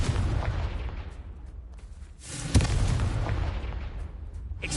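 Blasting curse explosions from a Harry Potter video game: a dense, continuous roar of booms and bursts, with a sharper loud blast midway through and sustained rumbling throughout.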